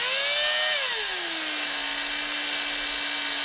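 A power drill with a bit fitted whines steadily and loudly, its pitch dropping early on as the motor slows, then holding an even drone.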